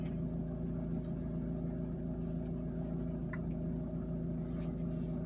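A car engine hooked up to an FCAR F7SG scanner hums low and steady as it eases back down after being revved, a close, constant drone with faint ticks above it.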